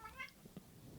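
A cat gives a short, faint meow, a quick rising call followed by quieter rustling in a soft room.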